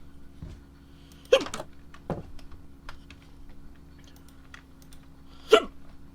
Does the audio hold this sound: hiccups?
yes